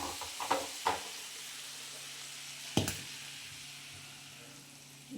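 Field beans fry in a pan with a soft, constant sizzle and a faint hiss, broken by a few close clinks and scrapes as they are stirred.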